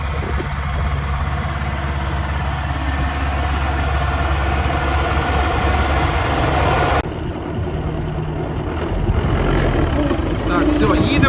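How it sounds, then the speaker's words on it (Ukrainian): A tractor rumbles back across a field during no-till seeder trials, its engine drone steady and fairly loud throughout, with a brief shift in tone partway through. "Повертається наш трактор."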